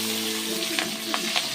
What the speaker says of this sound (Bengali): আমার তেল এবার আমি এই যে কালো জিরে ফোড়ন দিয়ে দেবো, একটু ফোড়ন দিয়ে দিলাম।